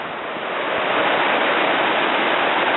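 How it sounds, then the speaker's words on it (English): A river running high and fast in spate roars continuously, a dense wash of rushing water heard close and loud with no voices. "Now you can see how blowing out this river is."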